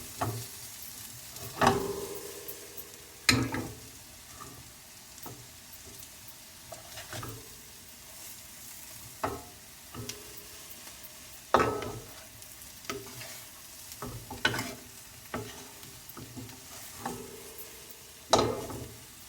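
Stuffed okra (bhindi) fries in a pan with little oil, making a low sizzle under repeated sharp scrapes and clacks of a spatula stirring at irregular intervals, with no talking.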